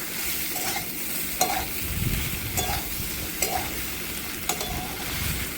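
Soybean and raw banana curry fries in a pan with chilli, coriander and cumin powders, giving a steady close sizzle broken by a few sharp scrapes of a stirring spoon against the pan.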